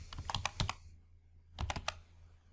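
A computer keyboard clicks out a quick run of keystrokes while a formula is typed in Excel, then pauses before a second short burst of crisp, close taps.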